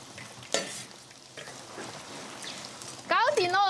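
Pieces of su rou pork deep-fry in hot oil to a golden, crispy finish with a steady sizzle, broken by a sharp clatter near the start and a clatter of utensils toward the end.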